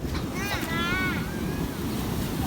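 Sea waves surge and wash onto a beach at high tide amid blustery wind buffeting the microphone, a constant rushing roar with a person's voice heard briefly over it.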